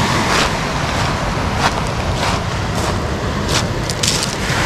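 Sea waves breaking on the shore at Lazarevskoye in November, a loud, steady wash of surf with repeated surges, mixed with wind buffeting the microphone and no voices.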